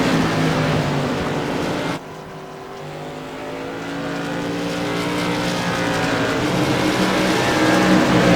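Modified race cars in a sim racing game roar around The Bullring short track, a continuous loud engine drone with rising and falling pitch as cars pass, dipping briefly before building again.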